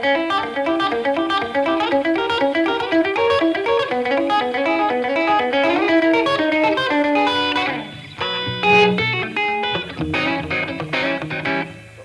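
Electric guitar played with a fast, bouncy picking pattern in the rockabilly manner, busy and steady for about eight seconds, then a short pause before ringing notes and a few more picked phrases close up, no talking.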